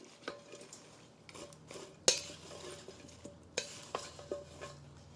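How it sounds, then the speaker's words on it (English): Tossing a salad dressed with Parmesan, using a wooden spoon. Close, quiet scrapes and soft clinks against the bowl come in an irregular series, with one sharper knock near the middle and no talking. "I'm going to toss it with my wooden spoon."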